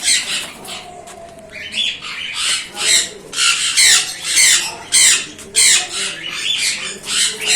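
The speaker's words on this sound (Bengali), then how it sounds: "আঙ্কেল এগুলো শখের জন্য রেখেছে এই পায়রাগুলো" Pigeons kept as hobby birds in an exotic-bird aviary give off repeated loud squawks and wing flaps in bursts, with a busy chorus of calls close by and people talking faintly underneath.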